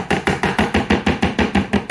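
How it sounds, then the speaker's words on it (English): Loud, regular knife smacks on garlic against a cutting board, about ten sharp thuds in quick, even rhythm, close up with no talking. "Garlic will get smacked as well because it's kind of tough"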